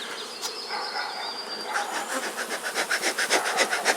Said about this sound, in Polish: Eee, pszczoły latają, tak?